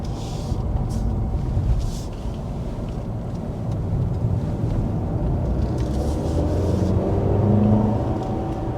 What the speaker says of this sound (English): we're heading up to one of the corners, and I went ahead and put the vehicle in sport mode as well